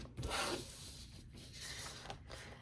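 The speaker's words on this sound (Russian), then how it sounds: "Я просто беру железную линейку и вот так строительным ножом" A utility knife draws along a steel ruler, cutting plastic from a plastic box, giving faint, close scraping and rubbing strokes with a few short passes and no talk.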